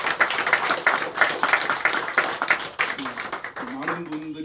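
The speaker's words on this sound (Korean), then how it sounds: "우리 하나님께 한 번 더 감사와 영광의 박수를" A congregation at a Sunday morning church service claps together in steady applause, with voices mixed in. A few tonal notes enter near the end.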